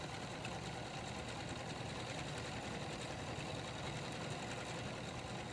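A sewing machine runs steadily while stitching a zigzag center seam on fabric, its fast, even mechanical whir continuous and close throughout with no pauses.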